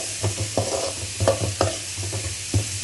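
Onions sautéing in oil in a pan for nasi goreng ikan bilis, a steady close sizzle with irregular soft scraping strokes of a spatula throughout, no talking.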